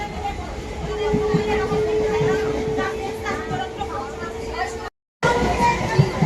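A passenger train ride toward Thakurnagar, with a steady rumbling rail roar, a long tonal whine and a murmur of voices in the carriage, broken by a brief gap.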